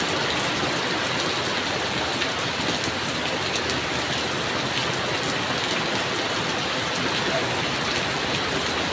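A downpour driven by strong wind beats steadily on surfaces, a thick, unbroken hiss and patter of drops that stays loud throughout, with no voices.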